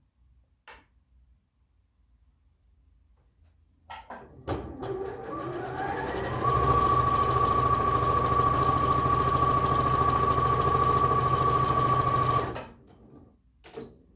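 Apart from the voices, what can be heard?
sewing machine stitching a tunic dress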